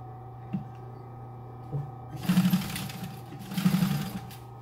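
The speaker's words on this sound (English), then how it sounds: "And now I'm going to sew." A sewing machine stitches leather for medieval boots, running in two short bursts over a steady motor hum, close and moderately loud, with brief needle taps before the runs.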